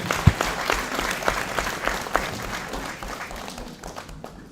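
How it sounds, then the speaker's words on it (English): Audience at an opening ceremony of a Pan African socialism dialogue claps hands, a moderate crowd of individual claps with a few sharp louder slaps standing out, tapering off toward the end. "we're clapping hands for our comrades all over the world"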